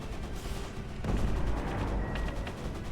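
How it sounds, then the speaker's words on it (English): Fireworks fired from a large launching machine in a video game, heard as dense, rumbling bursts of booms and crackles that swell and stay loud throughout. "A great big old fireworks launching machine."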